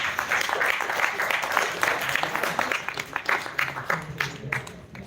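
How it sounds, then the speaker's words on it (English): A class audience at an entrepreneurship course claps in a steady burst of applause that tapers off toward the end, with some voices mixed in. "So please give them a round of applause."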